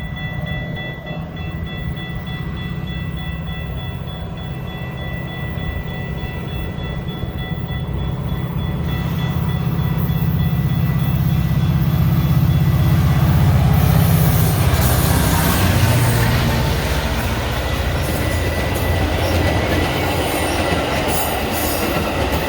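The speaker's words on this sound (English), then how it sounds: "You can see MP36s and F59-PH and PHIs on this line." A train hauled by MP36 and F59-PH locomotives rolls through a station, starting as a low steady rumble that swells into loud wheel clatter and squeal as the cars pass close by, with no talking.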